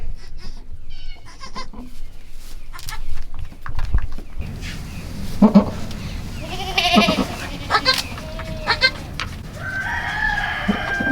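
Kiko goats bleat on a farm during kidding season, several wavering calls scattered among clucking chickens and a crowing rooster, with rustling farmyard noise throughout.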